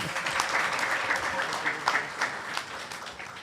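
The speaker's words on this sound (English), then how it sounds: "Let's give Uncle a clap, please." Scattered clapping from a gathered audience at a Hindu Bhagwat Yagna devotional session, moderately quiet with uneven bursts and faint voices mixed in.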